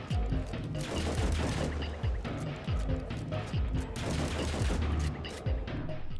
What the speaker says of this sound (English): Since the 4th Horseman unloads its shots so fast, 2 max DPS is going to be incredibly high